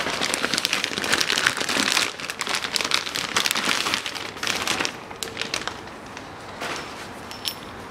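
Plastic bag crinkling and rustling close up while a new Britpart speedometer cable for a 1982 Land Rover Series III is unpacked, dense and busy at first, then thinning into sparse crackles.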